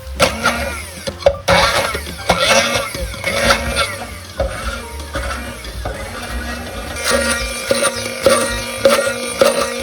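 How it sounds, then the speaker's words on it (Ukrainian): A blender whirs through garlic and olive oil in repeated bursts, motor pitch rising and dropping as it pulses, loud and close with short pauses between runs. "і збиваємо блендером."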